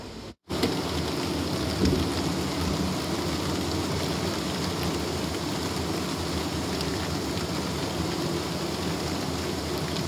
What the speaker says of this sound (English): The rain continues to drizzle down as I work.